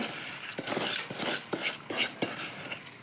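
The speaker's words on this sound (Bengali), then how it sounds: "চাল এবং ডাল একসাথেই ধুয়ে রাখা হয়েছে। চালটা দিয়ে দিচ্ছি।" Washed rice and lentils go into a khichuri pot amid a run of metallic scrapes and clinks from stirring, with a soft hiss underneath, close and moderately loud.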